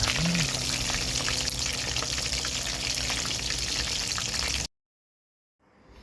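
Loud, continuous sizzling and crackling of pork belly frying in hot oil, close up, cutting off abruptly to silence near the end.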